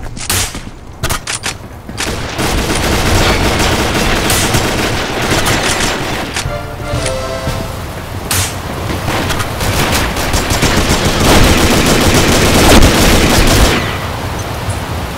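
AR-15 and double-barrel gunfire in the video game Combat Arms, loud and close: sharp rapid automatic bursts mixed with heavier booming shots, nearly continuous after a few opening cracks.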